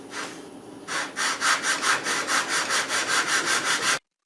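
Rhythmic rasping strokes of a flexible sanding strip smoothing the contours of a wooden cabriole table leg, about a dozen quick back-and-forth passes after an initial slower scrape, close and clear.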